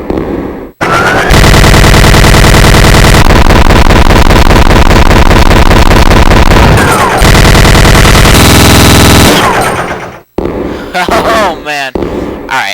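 Very loud, sustained machine-gun fire in Resident Evil 2, rapid evenly spaced shots in long unbroken bursts lasting several seconds, then short scattered blasts with grunts and groans.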